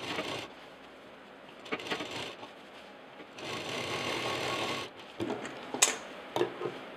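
A sewing machine stitches a bag in several bursts of steady whirring, separated by short pauses with small clicks and handling taps.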